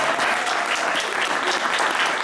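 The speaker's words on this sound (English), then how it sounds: "Audience, give a round of applause to our 3 contestants." A studio audience applauds three game show contestants, a steady, dense wash of clapping that fills the moment without any speech over it.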